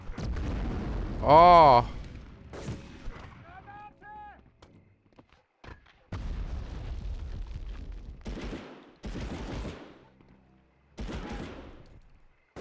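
A grenade blows up in a first-person shooter on the original PlayStation, one loud booming blast followed by a sparser scatter of further bursts, with a person talking over and between them.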